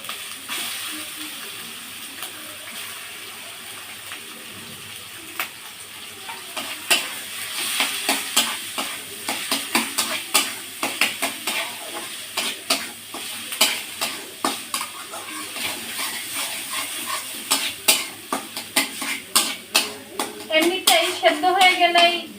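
Steamed taro flower goes into a hot pan with hilsa fish bones and peanuts, setting off a soft sizzle, then the ladle scrapes and clacks against the pan in quickening, irregular strokes as the mixture is stirred.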